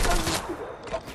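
Rapid bursts of gunfire in the video game Fortnite crackle through the whole short moment, close and loud, with voices talking underneath.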